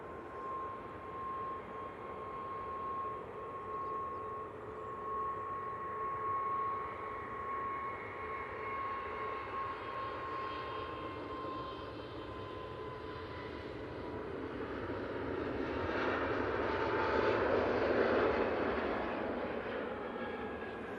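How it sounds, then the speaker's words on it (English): An Airbus A320neo jet takes off from Manchester Airport bound for Geneva, its engines giving a steady, fairly distant broadband roar with a thin whine that swells louder toward the end as the aircraft passes, with no talking. "This A320neo now off to Geneva."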